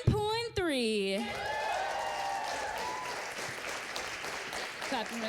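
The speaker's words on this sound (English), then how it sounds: "Clapping for the poet, clapping for some math." An audience at a poetry slam claps for a poet after the scores, a sustained wash of applause under a voice speaking through it.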